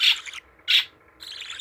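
Young budgies, about four weeks old, give short bright chirps in two quick bursts, then a softer, longer twitter, close by and with no voices over them.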